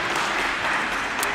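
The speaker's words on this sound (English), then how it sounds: "A warm round of applause from the spectators in the stands, and particularly from the Great Britain side." Spectators in the stands at a goalball match applaud warmly, a steady, full wash of clapping that fills the whole short moment without letup.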